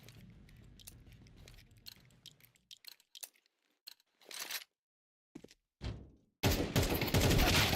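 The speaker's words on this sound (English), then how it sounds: "He guns him down right off the ramp to extend his lead to 8-5." Gunfire in a competitive video game match rings out in short, clipped bursts separated by silences, then swells into a loud, sustained barrage at the end, with no voices.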